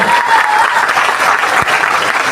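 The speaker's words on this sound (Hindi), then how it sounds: "एक जोरदार ताली होना चाहिए" Steady, dense applause from a large crowd fills the whole stretch, loud and continuous with no voices standing out.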